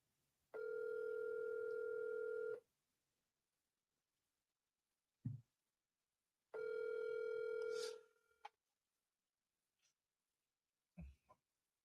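A phone rings twice in long steady electronic tones while a call is placed, with silence and a few faint clicks or knocks between and after the rings.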